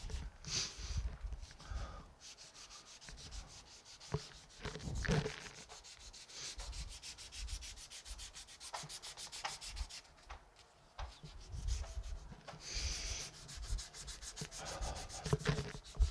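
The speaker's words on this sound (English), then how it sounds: "it's only 400 grit and I'm not really sanding enough" Quiet, rhythmic rasping of 400 grit sandpaper rubbed back and forth over guitar frets, in repeated strokes close by.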